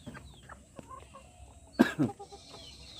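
Chickens in a bamboo-fenced coop give a couple of short, sharp clucks close by, standing out against an otherwise quiet yard with faint scattered bird calls.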